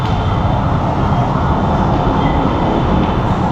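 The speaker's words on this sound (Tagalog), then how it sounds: "So waiting na lang po kami ng panibagong tren na darating." A train pulls into a station while passengers wait on the platform, producing a loud, steady rumble and rolling rail noise that fills the whole stretch without a break or any voices.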